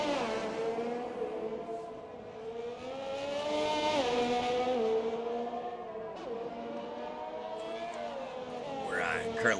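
Race cars travel at around 300 kilometres an hour, the engine note sweeping up and down through gear changes while a commentator talks over it.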